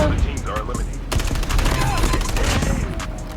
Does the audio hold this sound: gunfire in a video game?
yes